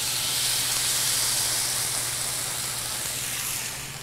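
Canned whole tomatoes, a 28-ounce can, hit a hot pan and sizzle in a steady, broad hiss that holds evenly for several seconds before easing slightly at the end.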